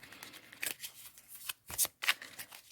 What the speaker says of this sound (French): Alors, je vous tire donc une carte.